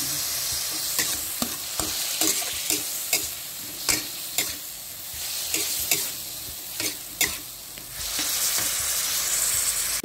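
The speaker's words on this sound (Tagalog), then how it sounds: "So lutuin muna natin ang tomato guys." Tomatoes cook in a pan with browned meat while a utensil stirs them, giving a continuous soft sizzle broken by a run of sharp, irregular scraping clicks against the pan, close up with no talking.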